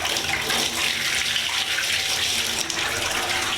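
Lukewarm water runs steadily from a tap into a bathtub being filled to bathe a pet snake, a constant, moderately loud gushing hiss with no talk.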